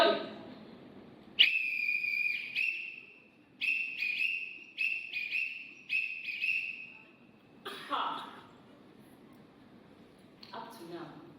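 A shrill, steady whistle sounds in a series of sustained notes and short repeated blasts, clear and close, with brief breathy gaps and a cough-like sound between phrases.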